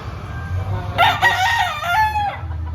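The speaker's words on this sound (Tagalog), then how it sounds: "Yung mga manok galing sa farm ito mga idol." Farm chickens at an outdoor Lipa market, with a rooster crowing clearly and fairly close in one long, wavering call, over a low, steady background rumble.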